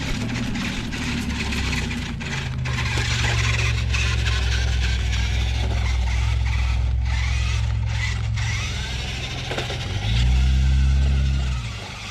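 Ruko amphibious RC truck motor whirring steadily as the toy drives and turns, with a low continuous drone that surges louder near the end; no talking.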